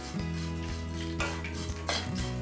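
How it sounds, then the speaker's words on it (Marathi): Poha being dry-roasted in a pan over a low flame, with steady scraping and stirring of a utensil against metal and occasional clinks, close and continuous with a low hum underneath. "पोहे पण आपण थोडेसे भाजून घेतो आहे लो फ्लेमवरती"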